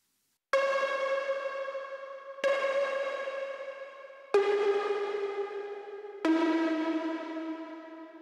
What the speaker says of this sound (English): And there's one more layer coming in here, which is a hive pluck sound.